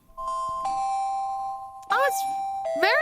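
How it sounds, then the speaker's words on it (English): A phone alarm tone called Argon rings out in gentle bell-like chimes, clear sustained tones with a brighter shimmering flourish repeating twice toward the end, fairly close and steady. "I should have had it queued up so you guys can hear it, because nothing's more exciting than listening to my alarm."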